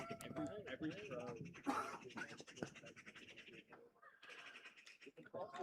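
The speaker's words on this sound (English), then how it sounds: "Plenty of bird sound out tonight." Birds call outdoors in the evening at a cricket ground during a Pembroke versus DLR County match, their chirps scattered and fairly faint beneath close, steady commentary talk.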